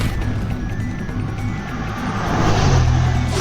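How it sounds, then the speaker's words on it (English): Cars drive by outside with a steady road rumble and whoosh that swells louder toward the end. "These cars driving by."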